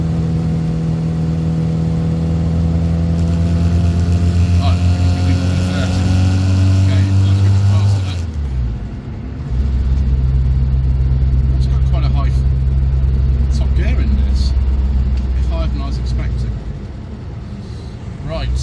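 A modified classic Mini drives at dusk on the Isle of Wight, its engine droning steadily and close inside the cabin, briefly dropping away around a gear change before settling into a steady hum again.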